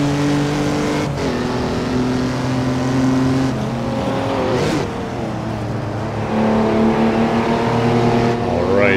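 A Jaguar C-Type race car engine in Assetto Corsa roars loudly and continuously at Feldbergring, rising and falling in pitch through gear changes and revs, with no voices over it.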